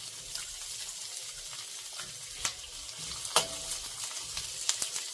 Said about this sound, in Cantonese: 爆香啲洋葱，我中意咁樣好食嘅